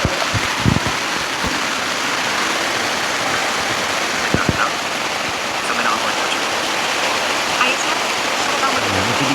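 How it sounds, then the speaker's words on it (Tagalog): Heavy rain pours steadily over a campsite in Bamban, Tarlac during a typhoon, a dense continuous loud hiss with a few close drips and taps on nearby surfaces. "Nabutan tayo ng malakas na ulan sa second night natin."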